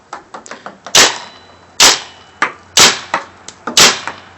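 Alpha Black paintball gun shooting at a tree outdoors, four loud, crisp pops at roughly one-second intervals, with fainter quick ticking clicks in between.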